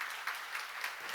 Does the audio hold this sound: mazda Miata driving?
no